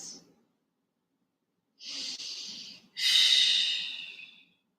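Deep, slow breaths during a yin yoga session: a brief exhale, then two long airy breaths, the second a strong, drawn-out exhale through the nose, close and fairly quiet, with silence between.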